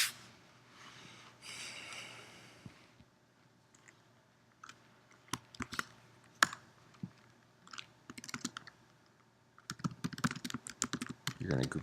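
Typing on a computer keyboard while writing down steps for accessing Word Online: bursts of sharp, close key clicks in irregular runs, after a breathy rustle at the start, with no talking.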